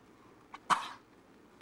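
A horse coughs from dusty hay in Colorado, one harsh, fairly close cough with a shorter puff just before it and a faint sound after, in a quiet setting.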